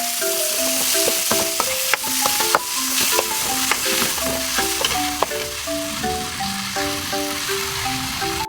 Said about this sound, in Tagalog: Sa point nga na ito, naisama ko na rin nga sa pagisa itong hotdog.